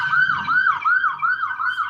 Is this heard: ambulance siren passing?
yes